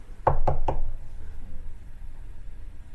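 Three quick, loud knocks on a door close by, evenly spaced, followed by a quiet room with low background hum.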